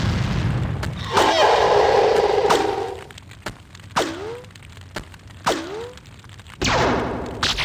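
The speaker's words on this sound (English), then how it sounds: "These guys have some powerful cannons, don't they?" Heavy booming cannon blasts in the video game X-Com Apocalypse, several shots spaced a second or so apart, loud and punchy with ringing tails and a sustained roar between.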